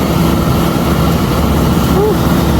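A large tractor working a wheat harvest on a farm field in Japan drones with a steady low engine hum, continuous and fairly loud, while people talk over it.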